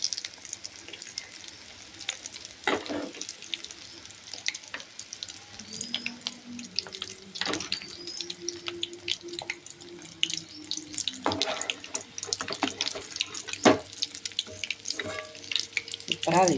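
Fish kola balls fry in oil over a low flame with a soft, continuous sizzle and scattered crackles and pops. Faint kitchen clatter comes and goes in the background.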